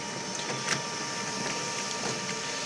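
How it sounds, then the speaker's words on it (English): An HP LaserJet Pro 200 color MFP M276nw scans with its flatbed, giving a steady mechanical whir with a faint electronic tone and light rattles running continuously, close and moderately loud, with no voices. "now the printer is using the flatbed to scan whatever is in there"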